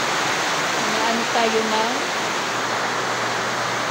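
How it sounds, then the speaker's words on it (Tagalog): Steady rain falls with a dense, continuous hiss, and water drips through a leaking roof indoors. A voice speaks briefly over the noise. "Umulan na. Iuusog natin yung ano dahil tumutulo dito."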